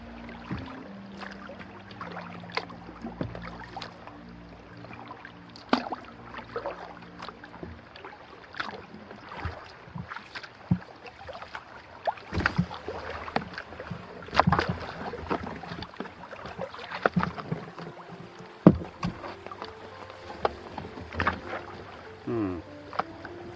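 Kayak paddle strokes knocking and splashing on the shallow Santa Fe River, irregular dips and bumps over a quiet outdoor background, nearby and moderate in level.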